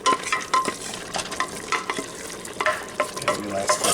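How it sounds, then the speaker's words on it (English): A spoon stirs thickener through a chicken pot pie filling in a pan, with repeated scraping strokes over a steady sizzle of the simmering mixture, close and moderately loud, with no talking. "We're going to stir that in real good."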